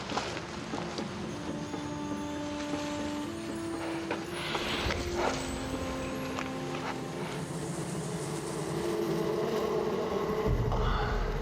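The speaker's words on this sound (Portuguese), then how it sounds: "O som da estrada acaba por ser o zumbido de uma enorme colmeia." A huge beehive in the jungle gives off a continuous, moderately faint buzzing drone with sustained tones that holds steady throughout.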